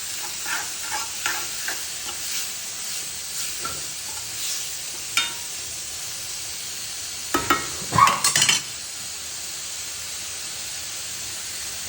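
Spiced potatoes in a pan with coriander-cumin powder and red chilli powder, stirred with a run of soft scrapes over a faint sizzle, then a louder cluster of clattering scrapes near the end, close and without voices.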